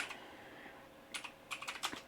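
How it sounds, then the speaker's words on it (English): A loud computer keyboard clatters in a few quick bursts of sharp key clicks, close and fairly faint overall, with quiet gaps between the keystrokes. "Everybody like my extremely annoyingly loud keyboard."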